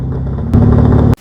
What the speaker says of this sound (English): Now listen to the RPM as I pull up to the Christmas tree and stage it.